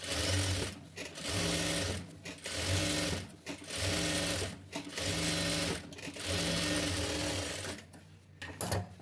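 A sewing machine runs in steady bursts while stitching blouse cloth, its fast mechanical whir stopping and restarting several times in a close, loud, rhythmic pattern with no talk over it.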